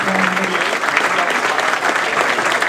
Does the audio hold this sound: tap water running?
no